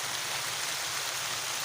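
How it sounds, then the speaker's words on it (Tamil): Rain falls steadily in the morning as an even, continuous hiss of drops, moderately close and fairly quiet, with no voices. "இப்போ பாருங்கள் காலையில்"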